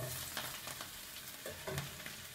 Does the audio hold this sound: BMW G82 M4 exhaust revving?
no